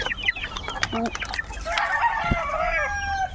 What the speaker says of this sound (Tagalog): Ayun na, ang dami ang sisiw